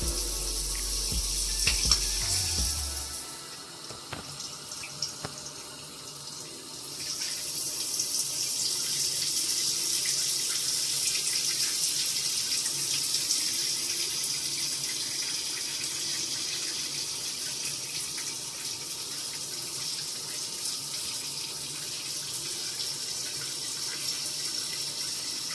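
Water runs from a tap steadily for a long stretch during a hair wash, a continuous bright hiss that dips briefly early on and then resumes, with faint low thumps at the very start.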